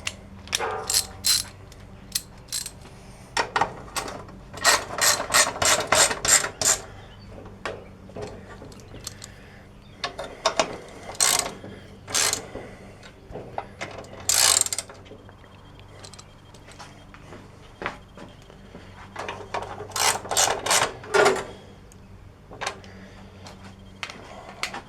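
Socket wrench ratchet working a 7/16 wrench on bolts of a 1966 Briggs & Stratton engine, rapid bursts of clicking strokes repeated in several rounds with short pauses, close and fairly loud.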